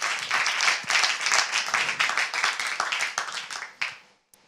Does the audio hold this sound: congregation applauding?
yes